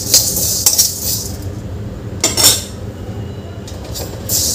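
Spices being dry-roasted in a kadhai over a gas flame for homemade chivda masala, with steady low rumble and repeated metallic clinks and scrapes of a spoon against the pan.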